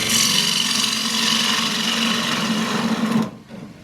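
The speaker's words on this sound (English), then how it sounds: "pivot the tool round, and then roll it slightly anti-clockwise to get a shaving" A gouge cuts a wide-rimmed wooden dish on a wood lathe, making a continuous, loud, even hiss and whirr of shaving that runs steadily and then stops abruptly near the end.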